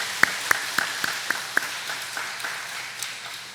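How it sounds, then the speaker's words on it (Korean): Members of a church congregation clap for their teachers and helpers during a Sunday service. About six crisp claps land in a quick, even rhythm in a reverberant hall, then thin out into a few faint scattered ones. "우리 함께 축복하는 마음으로 박수로 한번 그들을 격려하십시오"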